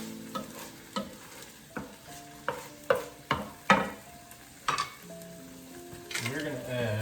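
A utensil stirs and scrapes browned ground beef around a hot pan, with repeated clacking strokes against the pan over a steady sizzle and no talk.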